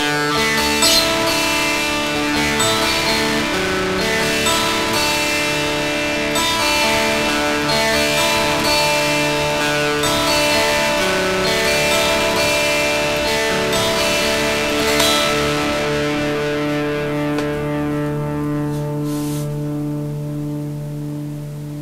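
Electric guitar through a Boss DS-1 distortion pedal with the gain turned up, sustained distorted chords and notes ringing loud and steady, then slowly decaying near the end, with no talking.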